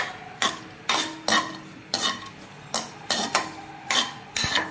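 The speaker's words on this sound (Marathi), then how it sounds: "आपण त्यामध्ये आता आपली सुका मेवा हा थोडासा लालसर रंगावर परतून घेऊया" Dry fruits and cashews roasting in a pan over medium heat, stirred with a spoon that knocks the pan in a steady series of about ten close, sharp scraping taps.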